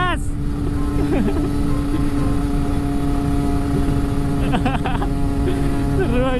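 A Kawasaki Ninja RR 150 two-stroke motorcycle revs and accelerates close by in a steady, loud engine drone with rising pitch sweeps, while a voice speaks over it.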